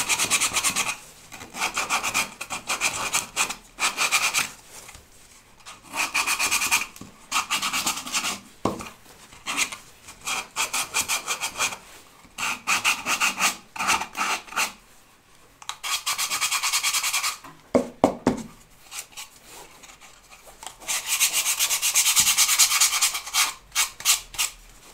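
Coarse sandpaper is rubbed by hand over an MDF box, producing close, rasping scratchy strokes in repeated bursts separated by short pauses.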